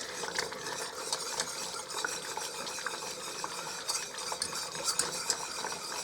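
A whisk scrapes and clatters steadily against a pan of English toffee mixture, close and continuous with a bright metallic rattle and no talk.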